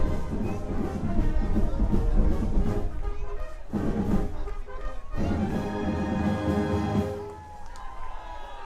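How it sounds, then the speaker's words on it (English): Fossil Ridge High School marching band plays its fight song at a football game, brass and drums loud and sustained with a crowd around them, the music tapering off near the end. "You hear the Fossil Ridge Band playing their fight song."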